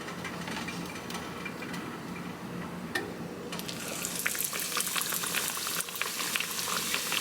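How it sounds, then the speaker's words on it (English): Breaded chicken cutlets for katsudon fry in hot oil in a pan, a steady crackling sizzle that grows louder and denser after a few seconds, with sharp spits and pops close by and no talking. "Once you see it start to sizzle a little bit, then you can go ahead and throw in the chicken."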